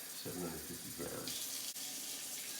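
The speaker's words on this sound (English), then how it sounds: "I've already kind of warmed up the water from my faucet, so I'm going to measure out 750 grams." Warm faucet water pours steadily into a container set on a kitchen scale for sourdough bread dough, a continuous hissing splash that thickens partway through, quiet and close.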